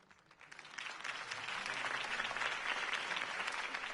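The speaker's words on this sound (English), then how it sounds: "could have heard that applause" Crowd applause at a political campaign rally in Batman: The Telltale Series, a dense wash of clapping that swells in over the first second and then holds loud and steady.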